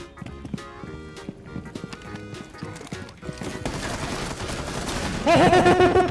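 Gunfire crackles in the tactical shooter Rainbow Six Siege: scattered sharp shots grow into denser, louder rapid bursts toward the end, mixed with other busy game sounds.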